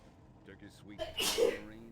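A character sneezes in the video game Doom 3, a single sharp burst right after a short spoken line.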